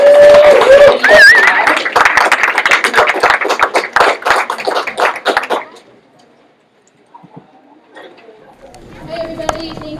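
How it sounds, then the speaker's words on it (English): A crowd claps loudly for several seconds, the applause thinning out and fading, followed by quiet and then a voice beginning to speak. "Maybe give a round of applause for your vision"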